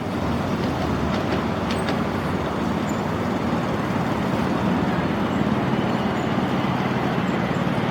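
A small miniature live-steam train rolls along at a steady pace, slowing slightly while crossing a track, a continuous low rumble with faint clicking of wheels over rail joints.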